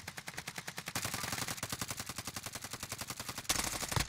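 Rapid automatic gunfire in the video game Call of Duty: Modern Warfare, a fast steady string of sharp shots for the whole span, loud and close with no pauses.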